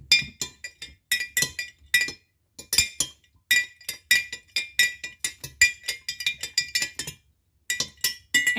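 A stick stirs lye inside a glass container, producing rapid, close glassy clinks in quick bursts separated by short pauses.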